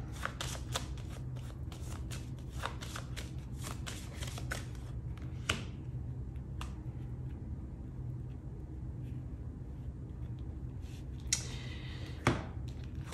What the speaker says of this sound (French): Je vais remettre une carte.